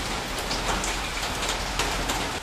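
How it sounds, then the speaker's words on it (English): Steady rain falls outside the back of a house, a dense, even hiss of drops on surfaces that stays constant and fairly close throughout, with no voices. "But it's raining."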